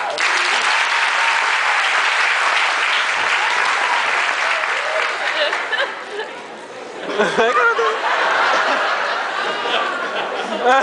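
A comedy show audience breaks into loud, sustained applause, with laughter and chatter mixed in as the clapping dips briefly and swells again, all heard close and full.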